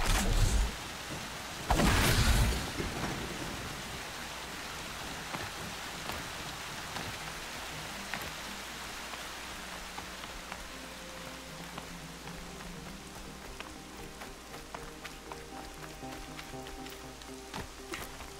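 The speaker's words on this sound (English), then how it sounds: "Wow, the rain is loud. It is really pouring as well." Heavy in-game rain pours steadily in Horizon Zero Dawn, a constant soft hiss of drops with a brief louder burst near the start, heard alone without voices.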